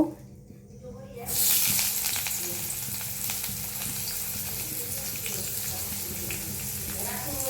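Onion hits hot oil in a wok with a sudden loud sizzle after a quiet start, then a sustained crackling hiss with occasional stirring scrapes, close and steady.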